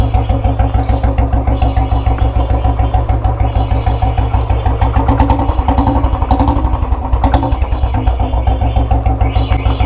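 Loud and close, a Royal Enfield Bullet 350 motorcycle with modified alloy wheels idles with a steady, even, deep thumping beat and a mechanical clatter running throughout.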